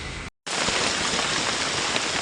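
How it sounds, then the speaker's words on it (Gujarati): Heavy monsoon rain pours steadily in Vapi-Bhilad, a dense, loud, continuous hiss that drops out briefly near the start and then returns at full strength. "દોસ્તો તમે જુઓ છો કે અહીંયા ફૂલ ભારે વરસાદ પડે છે"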